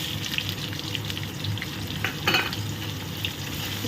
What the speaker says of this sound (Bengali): দিয়ে দেবো হচ্ছে কোচানো পেঁয়াজ